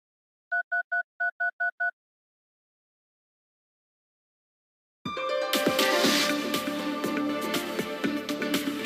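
Telephone dialing tones in a law office advert: two quick bursts of three beeps, clean and clear, then silence before loud broadband noise begins.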